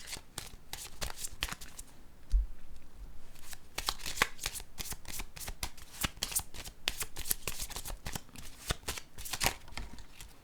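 Oracle cards being shuffled, handled and laid down on a table, giving a long, steady run of close, crisp riffling and flapping with no talk.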